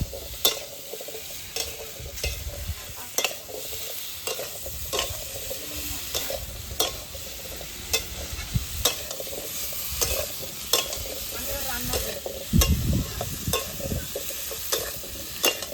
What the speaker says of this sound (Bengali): আমি 10 মিনিট মতন ভালো করে কষাবো।